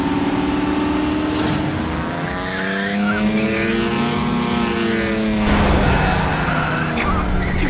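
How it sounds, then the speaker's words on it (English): Race cars in the video game Trails through Daybreak 2 speed past with loud, rising and falling engine whines and some tire squeal, sustained and close throughout. "Wait, where'd that car come from? Leno's back in the race?"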